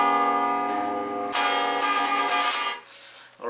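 A guitar sounds a diminished chord, one sustained strum ringing, then a second brighter strum that decays and fades near the end, close and fairly quiet with no talking.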